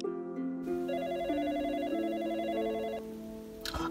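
A telephone rings in a steady repeating electronic ringtone pattern, a clear melodic trill cycling for a few seconds before a brief rustle near the end, with no talking.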